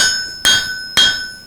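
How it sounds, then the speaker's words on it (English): Hammer blows on hot folded rasp steel being forged into an axe, the deep-toothed bar deforming unevenly; three loud, sharp ringing strikes about half a second apart, close by and alone. "this piece may handle a little funky as far as the way it deforms as you're hammering on it"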